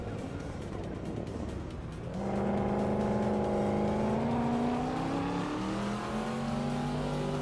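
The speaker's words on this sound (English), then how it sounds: "Inga McCringleberry is driving a 1989 Ford Sierra RS 500." A 1989 Ford Sierra RS 500 race car in a racing video game, its engine rising from a low rumble into a loud, sustained revving whine that climbs steadily through the gears, heard close.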